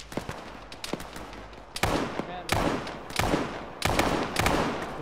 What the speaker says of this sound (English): Taking heavy fire southeast.